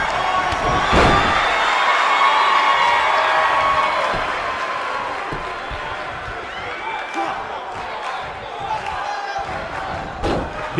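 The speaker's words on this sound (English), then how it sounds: "by the sound of this crowd, I think they're getting what they wanted" A wrestling crowd at an EPW Asylum event roars and cheers loudly, swelling at the start and easing slightly, with thuds, shouts and slams scattered through the noisy arena din.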